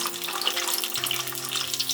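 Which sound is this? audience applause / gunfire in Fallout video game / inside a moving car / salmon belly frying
salmon belly frying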